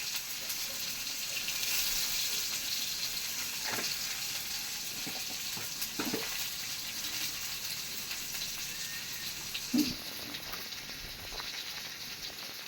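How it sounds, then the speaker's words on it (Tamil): Small shallots crackle and sizzle as they hit hot oil in a pan for tempering, a steady fry with a few sharper pops and spatters, fairly close and with no talking. "சின்ன வெங்காயம் போட்டு தாளிங்க"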